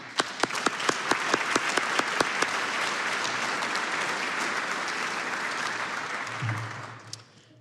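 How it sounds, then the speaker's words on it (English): An audience applauds at an academic investiture ceremony, a dense, steady wash of many hands clapping that opens with a few sharp individual claps, holds loud throughout and tapers off near the end. "I think we all deserve a round of applause"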